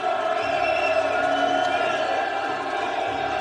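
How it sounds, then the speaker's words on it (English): Crowd noise fills a boxing arena before a live bout between Rahim Pardesi and Rashid Flex, a steady loud roar of cheering voices with no clear breaks. "And the crowd are up for this one"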